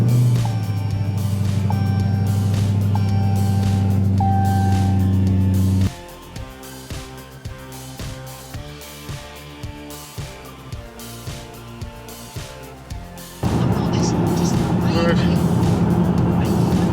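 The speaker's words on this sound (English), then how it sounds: "it's a Challenger Hellcat, absolutely stunning car" A 707 bhp 2017 Dodge Challenger Hellcat engine: a deep, loud rumble gives way to a quieter pulsing stretch, then swells loud again toward the end.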